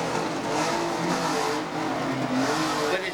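Unlimited banger racing cars at Ringwood Raceway, engines roaring continuously and loudly as battered cars race on a dirt oval, a dense wash of revving motors with no voices.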